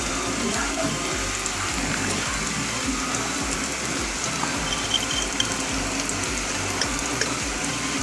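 Water pours into a pan of sizzling spice paste for chicken kosha, with chili, coriander and cumin powders, giving a steady close hiss and bubbling that runs evenly throughout.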